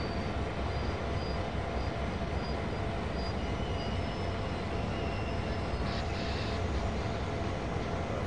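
Train rumbling as it slows in Train Sim World 2, a steady, loud broadband drone with a faint high whine riding on top throughout.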